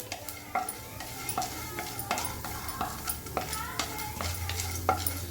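Steady sizzling of food frying in hot oil in a kadai, with repeated scraping and stirring strokes against the pan, close and moderately loud.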